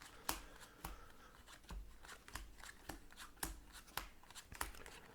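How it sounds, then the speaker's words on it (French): Playing cards are dealt one at a time into four piles of five for a magic trick. Crisp, quiet slaps and snaps land at a steady, unhurried rhythm close by, with no talking. "vous allez distribuer une à une, comme ceci, 4 tas, comme avant, en formant 4 tas de 5 cartes"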